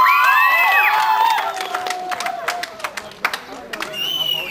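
Applause and cheering from a school crowd at an end-of-year ceremony, loud and dense at first, then thinning into scattered claps with whistles and children's shouts.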